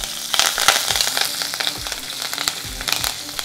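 Curry leaves sizzling and crackling in hot oil with cumin and ginger for green millet vermicelli upma, a loud, close, steady frying hiss with sharp popping crackles throughout and no talking.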